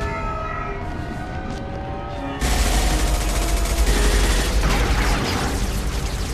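Gunfire erupts in a Mass Effect 2 firefight, a sudden loud burst of rapid shots and booms that follows a quieter stretch and carries on dense and continuous to the end.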